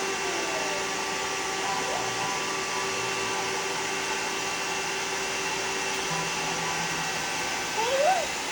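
A household vacuum cleaner runs with a constant loud droning hum throughout, while a voice and an adult's faint speech come and go over the noise.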